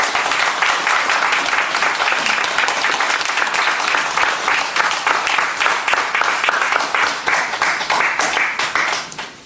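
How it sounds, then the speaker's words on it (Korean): An audience welcomes a university president's lecture with loud, sustained applause, dense and close clapping from many people that holds steady for nearly ten seconds before tapering off. "뜨거운 박수를 하겠습니다"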